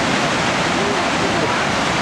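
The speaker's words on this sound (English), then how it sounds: "There's the bottom of Steady Brook Falls, which flows out" Steady Brook Falls in Newfoundland pours down heavily, a loud, dense and unbroken roar of rushing water heard close by at the foot of the falls.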